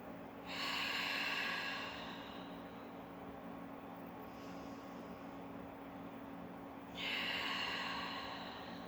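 Deep breaths during a mat Pilates class, with two long, breathy exhalations, one early and one near the end, over a steady low background hum.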